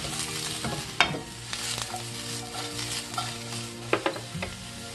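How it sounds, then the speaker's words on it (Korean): King oyster mushrooms sizzle in a hot pan while a utensil scrapes and clacks against it in several irregular stirring strokes, close up. "새송이 잘라놓은 거 먼저 볶겠습니다"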